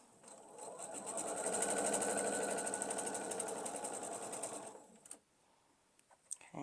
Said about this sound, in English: I am going to sew straight of grain to straight of grain